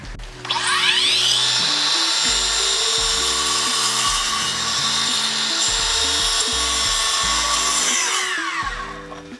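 Makita 40V 8 1/2-inch sliding miter saw making a 45-degree cut: the motor spins up to a loud, steady high whine, holds through the slide across the stock, then winds down, all heard up close with no talk.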